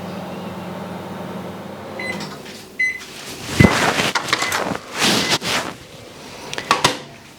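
Microwave oven melting chocolate, its steady hum running at first, then beeps, a door clunk and the rattle of handling a bowl, all close by with no talk.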